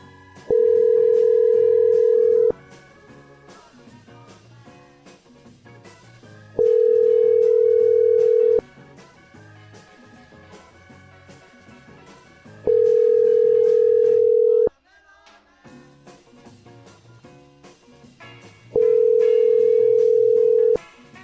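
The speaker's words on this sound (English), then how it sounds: "Ringing." A telephone ringing tone repeats four times, long even tones separated by pauses, loud and close over soft background music.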